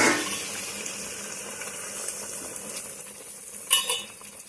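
Hot water from a kettle poured into a pan of frying spices, a soft continuous hiss and bubbling that fades steadily, with a brief metallic clink near the end.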